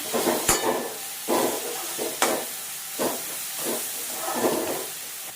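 Coriander-cumin powder is stirred into hot oil for a savory semolina snack, with bursts of hissing sizzle and scraping spoon strokes coming in uneven pulses, close and fairly loud.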